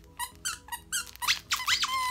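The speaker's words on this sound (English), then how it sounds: "And it squeaks, and it's just a really cute shoe." A sneaker-shaped dog toy squeaks several times in a row, with short evenly spaced squeaks followed by longer, higher squeals, loud and close with no talking.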